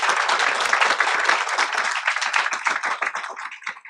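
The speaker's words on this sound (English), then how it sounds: "applause, please." Applause at a school district board meeting honoring the Liberty School staff: dense, bright clapping from a roomful of people that holds steady, then gradually thins out into fewer, more separate claps toward the end.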